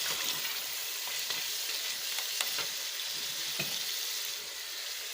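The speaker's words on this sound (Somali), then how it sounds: "yaanyada hilibkaas ku shiilmaan" Meat and tomatoes frying in a pan for a rice dish, a steady close hiss and crackle of sizzling with occasional stirring clicks and no talk.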